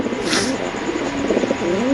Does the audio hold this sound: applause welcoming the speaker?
no